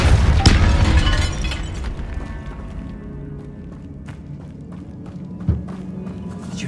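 Depulso force-push spell blast in the video game Hogwarts Legacy, a heavy booming impact with a crumbling rumble that fades over a couple of seconds, followed by a quieter ambience and one later dull thud.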